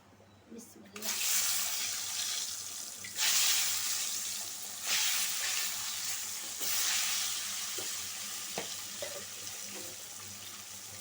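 Eggs frying in a pan with a little turmeric powder for a dried-fish curry, a steady close hiss that rises in bursts as more goes into the hot oil, with clatters of stirring and brief faucet-like water noise.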